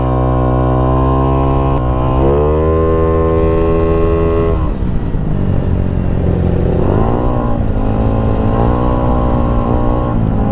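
A Yamaha Aerox V2 scooter with a built 215cc engine revs loudly on a test drive, its note climbing and falling as the rider accelerates, eases off, then pulls again.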